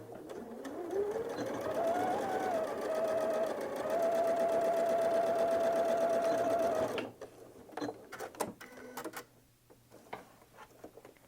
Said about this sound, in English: we're going to start here and sew across to this corner on the diagonal